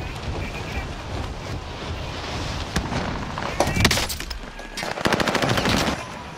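Bursts of automatic gunfire in the game Warzone, with rapid rattling volleys growing louder toward the end over a steady windy background, no voices.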